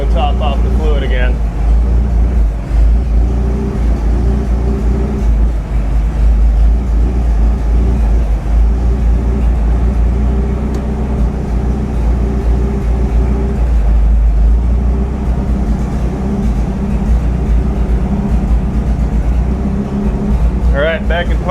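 An old U.S. postal Scout, a rare vehicle that sat for 50 years, idling with a steady low engine rumble while it is shifted through its gears, with brief clunks at the start and end.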